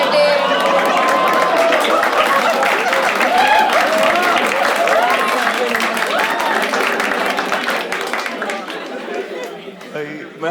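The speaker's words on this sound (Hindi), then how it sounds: "सबकी ताली इसलिए तो धीमी होती गई" Audience applause at a Hindi stand-up comedy show, loud clapping mixed with chatter and laughter that gradually thins out and fades toward the end.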